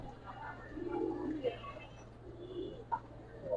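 A male Giribaz racing pigeon in a cage gives soft, repeated throaty coos in short rolling phrases, close and fairly quiet, with a low steady hum behind them.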